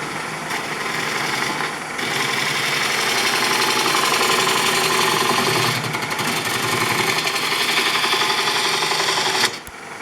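A wood lathe spins a wooden mug blank, being undercut for a chuck, while a half-inch spindle gouge cuts into it, producing a loud, continuous whirring drone with brief dips near the start and end.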